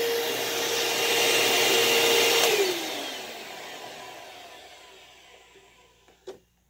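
A repaired Hoover or Bissell vacuum cleaner runs with a loud steady whine, then switches off and winds down with a falling pitch, ending in a brief clunk.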